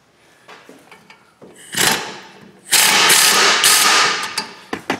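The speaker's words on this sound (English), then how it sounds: "we'll pull our bracket off, and that requires an E-socket, an E16" A ratchet turns an E16 inverted Torx socket to loosen a brake caliper bracket on a Ram Promaster City. Sharp clicks and knocks sound close, with two bursts of rapid, loud ratcheting.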